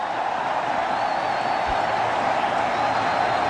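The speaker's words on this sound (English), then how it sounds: "Crowd are going berserk. They're loving this." Stadium crowd at a Bangladesh versus New Zealand one-day international cricket match roars after a boundary four, a dense, sustained wash of cheering and noise with no voice standing out, steady and loud throughout.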